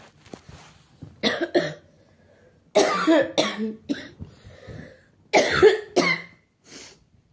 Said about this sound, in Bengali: প্রচণ্ড ঠান্ডা লেগেছে আর প্রচণ্ড কাশি হচ্ছে